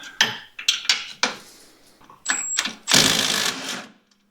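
A socket wrench removing bolts from Polaris RZR suspension, with several sharp metallic clanks followed by longer bursts of ratcheting close by.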